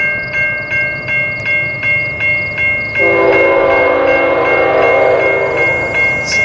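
A westbound intermodal freight train on the north track sounds its horn in a series of short, evenly spaced blasts, then holds a long, loud blast as the train passes close by with a rumbling roar.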